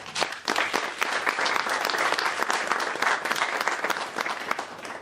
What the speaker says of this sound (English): I just got to take a minute to applaud them